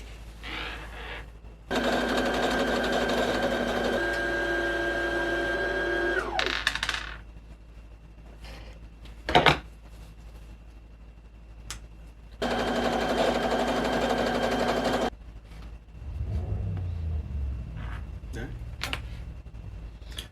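A home sewing machine stitches a buttonhole on a handmade holiday vest in two steady, fast mechanical bursts of several seconds each, separated by a clack, small clicks and handling noises.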